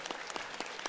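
Audience applause at a gathering, a short burst of steady clapping from many hands, fairly faint and even throughout.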